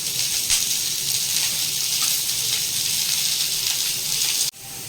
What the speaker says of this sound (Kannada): ಇದಕ್ಕೂ ಅಷ್ಟೇ 1 ಟೇಬಲ್ ಸ್ಪೂನ್ ಎಣ್ಣೆ ಹಾಕೊಳ್ಳೋಣ ಫ್ರೈ ಆಗೋದಕ್ಕೆ